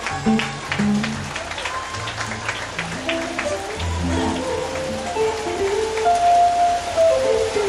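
A congregation at a wedding service applauds, dense steady clapping from many hands, mixed with a faint melodic line and scattered voices underneath.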